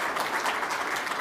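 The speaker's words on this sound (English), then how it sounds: "I think we need to give ourselves a round of applause" Attendees at a wildlife habitat conservation meeting applaud themselves, a brief burst of even, continuous clapping with no voices over it.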